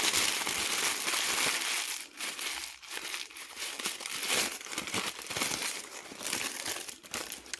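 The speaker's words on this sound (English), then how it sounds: "Excuse the crinkling." Plastic or foil sheeting crinkles and crackles in irregular bursts as it is handled close up during a gel printing session, with short pauses between the rustling.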